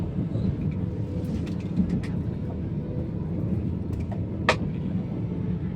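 Steady low rumble of a train running on rails, heard from inside a carriage, with a few faint clicks and knocks over the continuous drone and no clear talk.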